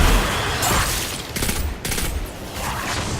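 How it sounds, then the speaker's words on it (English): A grenade blast in the video game Destiny 2 goes off amid a loud, rapid fusillade of gunfire, with sharp bursts and rumbling booms packed tightly over a few seconds. "Grenade."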